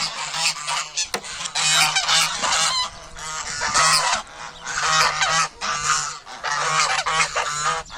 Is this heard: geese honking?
yes